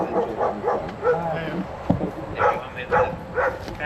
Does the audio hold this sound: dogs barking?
yes